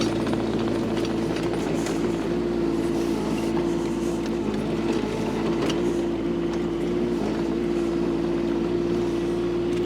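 A 2024 Kubota K008-5 mini excavator travels on rubber tracks with a steady diesel drone and a constant hum, with faint rattles and squeaks over it, near and even.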